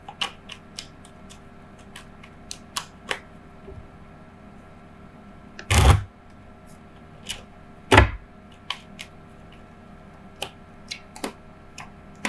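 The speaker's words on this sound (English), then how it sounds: "Now I'm going to use my Gypsy Oracle cards here." Gypsy Oracle cards being handled and shuffled, with sparse light ticks and taps throughout and two louder riffling bursts close by.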